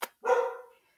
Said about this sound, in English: my dog, and there's, you can see there's dog right there